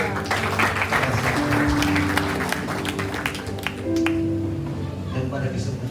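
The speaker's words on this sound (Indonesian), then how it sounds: "Kasih tepuk tangan dulu." A congregation at a church birthday service claps together, a dense, close burst that thins toward the end, with voices mixed in.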